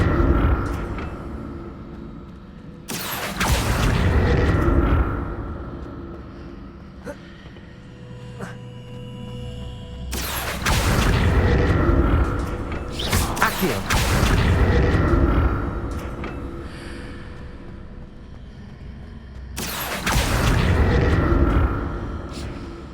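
Bursts of spell magic in the Hogwarts Legacy video game, sounding as several loud, booming whooshes about every seven to ten seconds, each swelling and fading over a low ambient game background.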